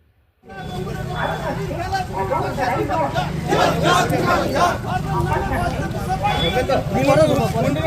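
A large political procession of Congress and Left Front supporters in Rampurhat fills the air with dense crowd noise, overlapping shouting and chanting voices, loud and continuous after a brief silent start.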